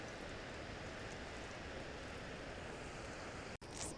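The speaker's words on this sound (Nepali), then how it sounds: "यो झरना है गाइस" Steady rushing waterfall in a Nepali village, a continuous broadband roar filling the whole stretch, close and loud, with only a brief dropout near the end and no talk.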